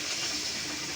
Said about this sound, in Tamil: இப்போ கொஞ்சம் தண்ணி சேர்த்துக்கணும்